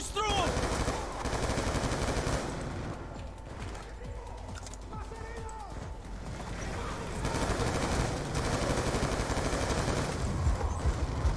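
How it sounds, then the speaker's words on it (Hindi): Gunfire from a machine gun turret in Call of Duty Black Ops 2, dense rapid bursts with sharp cracks that run steadily through the whole stretch, thinning briefly in the middle before returning loud, with ambient game noise underneath. "मशीन गन टाइप ट्यूरेट कहते हैं जिसे"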